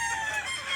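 A rooster crows in a brief, faint, drawn-out call heard from a distance among fighting-cock bloodlines, without any talk.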